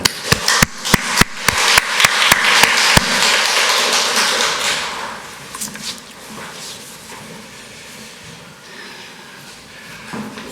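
Sharp claps and taps in a quick burst early on, then a wash of church congregation clapping that swells and fades into a quieter room murmur.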